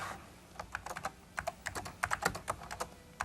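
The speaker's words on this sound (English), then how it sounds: "and typing in whatever I want." Quick bursts of keystrokes on a computer keyboard, close and clear, with irregular clicks bunched into short runs and brief gaps between them, no voices.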